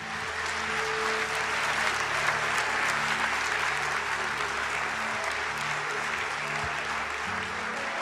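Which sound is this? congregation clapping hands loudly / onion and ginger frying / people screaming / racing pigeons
congregation clapping hands loudly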